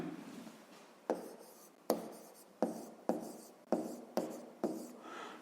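Pen strokes on paper while a fifth-grade maths exercise is written out, with a sharp tap marking each new stroke roughly every half second to second, close and quiet, with no talking.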